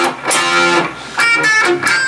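Electric guitar playing a short riff of picked notes and strums, with brief pauses between phrases, bright and close, no voices.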